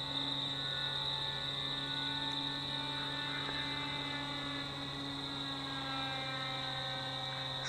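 An FX79 RC flying wing of close to 2 kilos, its electric motor held at about 60% throttle, gives a steady, even whine with a buzzing drone that stays constant throughout.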